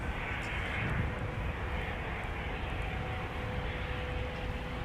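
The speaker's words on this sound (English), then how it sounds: "So this is Delta Flight 3080 from Jackson." A Delta Air Lines passenger jet, flight 3080 from Jackson, arriving at Minneapolis–St. Paul, heard as a soft, distant, continuous engine roar with a gentle hiss on top.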